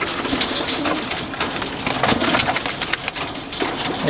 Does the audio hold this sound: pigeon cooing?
yes